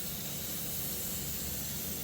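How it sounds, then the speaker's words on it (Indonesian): Aerosol primer sprays steadily from a can onto a wheel rim in a continuous, even hiss with no pauses, close and fairly loud throughout. "Untuk penyemprotan primer grade itu dengan jarak kurang lebih sekitar 15 cm ya lur, kita semprot memutar seperti ini."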